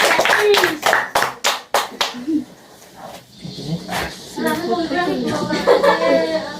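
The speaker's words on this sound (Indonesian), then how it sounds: "Oke, tepuk tangan." Children in a classroom clap their hands in a few sharp, close rhythmic bursts, then a voice and other young voices talk as the clapping stops.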